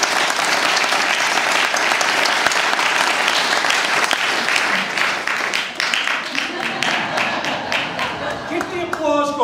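Sustained, dense applause from a large audience at a memorial service, loud and steady throughout, with a few voices emerging near the end as the clapping thins.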